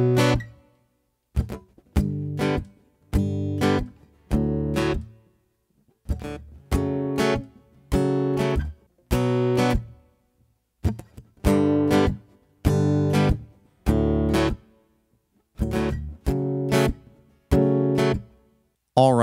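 Rhythmic guitar intro to a song played solo and uninterrupted, with repeated strummed chord bursts separated by short clean gaps throughout, close and steady with no voice.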